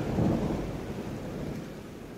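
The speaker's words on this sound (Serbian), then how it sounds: "Kiša, kiša, kiša." A low rumble of thunder rolls under steady rain, a dense continuous wash of sound that swells at the start and then holds fairly loud throughout.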